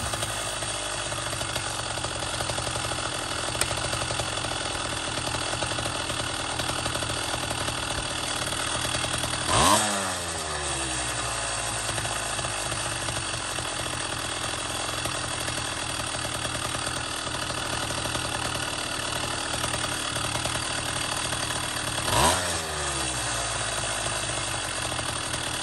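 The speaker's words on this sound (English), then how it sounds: "Here how I rolled the throttle back and then it dropped back down to a nice idle." Two-stroke dirt bike engine ticking over at a steady idle for the whole stretch, rising twice in sharp throttle blips that fall quickly back down to idle, with no talking.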